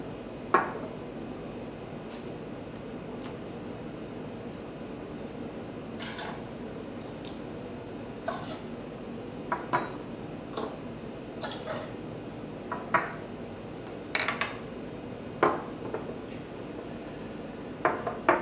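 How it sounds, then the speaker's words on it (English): Teacups being rinsed with leftover hot water during tea brewing: soft water drips, trickles and small porcelain clinks and taps, close and fairly quiet, growing more frequent toward the end. "Using the remaining water, I'm going to rinse the teacups."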